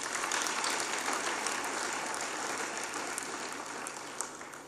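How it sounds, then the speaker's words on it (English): Sustained applause from a large crowd at a Tony Elumelu Foundation entrepreneur selection announcement in Abuja, a dense wash of clapping that holds steady and slowly tapers toward the end. "Can we give a round of applause?"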